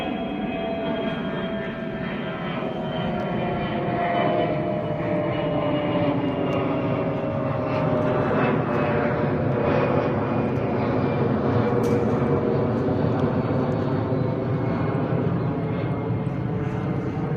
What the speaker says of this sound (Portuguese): Esse avião acaba de decolar de Navegantes.